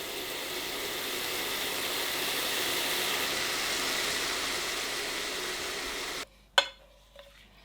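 Mushrooms sizzle steadily in a hot frying pan for several seconds, then the frying cuts out and a couple of sharp clatters follow as they are flipped, no talking.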